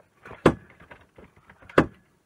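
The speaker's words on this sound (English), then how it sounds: "I'll just shut the door." A door in a workshop being shut, with two sharp close knocks about a second apart amid quieter rattling and handling noises.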